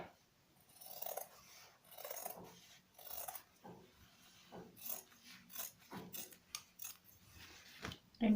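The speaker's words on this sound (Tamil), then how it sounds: "இதில் சென்டரை வந்து நம்ம கட் பண்ணி எடுத்துக்கலாம்." Scissors snip through old jeans fabric in a run of short crunchy cuts at an uneven pace, close and quiet, with no voices.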